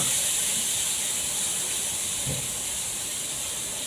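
Fresh chicken put into a hot pan sizzles loudly, a broad continuous hiss held steady throughout with no talk over it.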